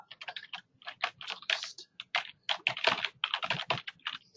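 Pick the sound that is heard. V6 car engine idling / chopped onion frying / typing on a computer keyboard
typing on a computer keyboard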